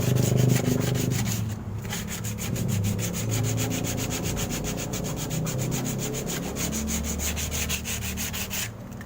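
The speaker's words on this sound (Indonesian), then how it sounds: "Lalu kita amplas pada dasarnya." Abrasive paper rubs over the corroded metal base of a tank in fast, steady back-and-forth strokes, a close, continuous scratchy rasp with a rhythmic pulse, heard without any talking.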